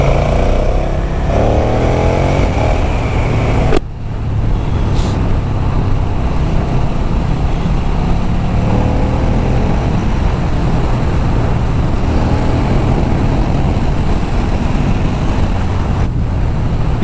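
A 2021 KTM 1290 GT motorcycle accelerates hard in Sport mode, its engine droning loudly under heavy wind rush. A brief dip in the sound suggests a gear change.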